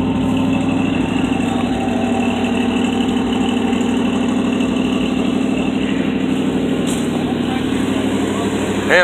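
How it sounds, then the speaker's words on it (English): A 1971 Ford Cobra Torino engine idles roughly just after start-up, a loud steady low rumble with a continuous droning hum throughout. "Let's see if we can get her to idle."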